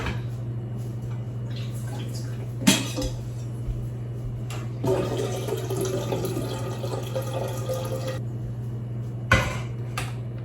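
Tap water runs into a measuring cup in a home kitchen to make bread dough, a few seconds of steady flow over a constant low hum, with occasional clinks of dishes and utensils nearby.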